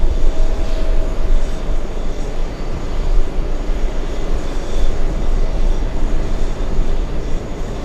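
A Virgin Atlantic airliner at JFK airport produces a loud, steady jet engine roar that fills the whole stretch with constant broadband noise and no speech.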